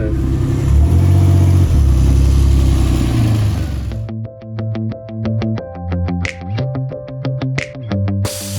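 A DeLorean's engine roars at close range and revs for about four seconds, then falls back to a choppy idle broken by short throttle blips as the car pulls in.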